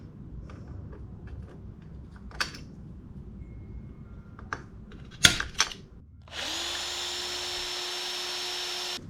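A power drill with a step bit bores out a rivet while installing a steering stabilizer on a Ninja ZX6R motorcycle, whirring steadily and loudly for about three seconds after some scattered clicks and handling knocks.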